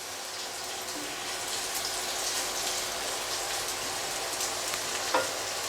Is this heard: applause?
no